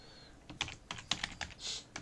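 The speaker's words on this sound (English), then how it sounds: "I'm typing in the wrong place." Rapid typing on a computer keyboard during a hockey game session, a few irregular bursts of close, crisp key clicks spread over two seconds with no talking.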